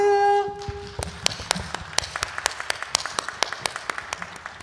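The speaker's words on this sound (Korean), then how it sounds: "사랑하는 박명배 담임 목사님을 박수로 환영해 볼까요?" Church congregation at a New Year's Eve service clapping to welcome the senior pastor, a sparse rhythmic patter of claps, fairly faint, after a brief sung tone at the start.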